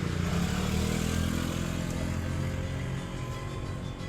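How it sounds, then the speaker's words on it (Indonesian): A motorcycle passing by on a street, its broad engine rumble loud and close at first, then easing slightly as it moves on, with no talking. "noise dari mobil lewat, motor lewat itu"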